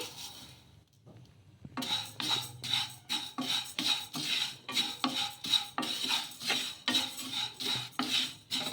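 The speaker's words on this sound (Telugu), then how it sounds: "ఇలా సేమ్యానే వేయించేసుకోవాలి అండి కొంచెం గో కొంచెం కలర్ చేంజ్ అయ్యే వరకు" Dry semiya vermicelli roasting in a pan under a spoon makes a quick start, then a rhythmic series of loud scraping, rasping strokes, roughly two per second, close and steady.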